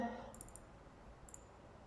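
Clicks on a Hikvision DVR recording interface, two brief sets of small mouse clicks a second apart, faint and close, with a speaking voice fading out at the start.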